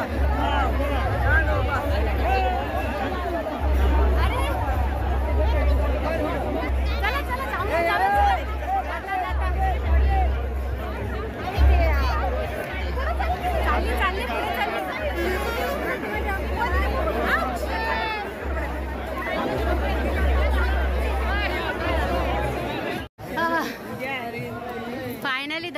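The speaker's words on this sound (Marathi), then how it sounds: "प्रचंड गर्दी आहे." A dense crowd of pilgrims at the Pandharpur wari, a constant murmur of many voices and chatter close around, with louder individual voices occasionally rising above the babble.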